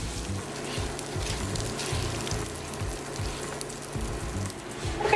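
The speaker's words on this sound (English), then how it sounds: "I'm going to add back in my onions and my celery and my garlic. And we're just going to stir that around." Onions, celery and garlic stirred into rice in a hot pan for red beans and rice: a steady, close sizzle runs throughout with soft scraping stir strokes and a brief louder rustle at the end.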